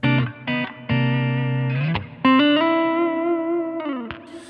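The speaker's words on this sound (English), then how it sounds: "I'm plugged directly into the EP-133. HX Stomp is doing all my guitar tones." An electric guitar runs through an HX Stomp straight into an EP-133 KO II, playing a handful of sustained, effected notes with clear attacks and ringing tails that change pitch in distinct steps, bright and close with no talking.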